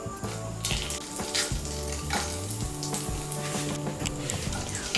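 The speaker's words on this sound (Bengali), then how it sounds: "এর মধ্যে আমি দিয়ে দিচ্ছি একটা তেজপাতা, হাফ ছোটো চামচ গোটা জিরে আর গোটা গরম মশলা।" A bay leaf, whole cumin and whole garam masala of three cardamom pods, two cloves and a piece of cinnamon crackle in hot oil, a steady close sizzle that runs the whole time beneath a faint tonal background.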